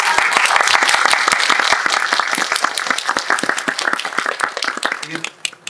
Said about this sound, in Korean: 이게 강요가 아니라 그냥 진심으로 하는 박수이죠.